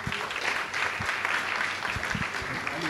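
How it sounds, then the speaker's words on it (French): An audience at a talk on conflicts of interest and scientific integrity applauds a speaker, steady dense clapping filling the room for a few seconds. "je vous demande de l'applaudir"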